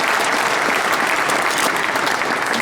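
An audience claps loudly and steadily throughout, a dense wash of many hands with no pauses and no voices standing out.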